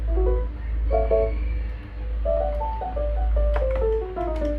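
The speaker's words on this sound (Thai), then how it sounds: "นี่มันเสียงเปียโน" Piano notes from the piano channel of a MIDI karaoke backing track, a steady melodic line of single tones and short phrases played alone over a low constant hum.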